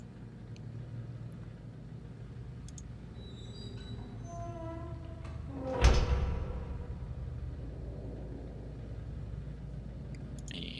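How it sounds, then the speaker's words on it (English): A heavy door in the game Riven slides shut with a single low, resonant thud, heard alone against a steady ambient hum. "We have to go close the door to go back through there."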